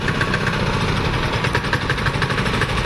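A 7 hp petrol chain cultivator engine runs steadily at close range, a continuous loud mechanical drone with a fast even pulse and no speech over it.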